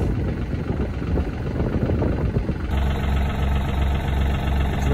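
A tractor engine running close by on a rice farm after the harvest, a loud continuous low rumble that steadies into an even, throbbing idle partway through, with no talking.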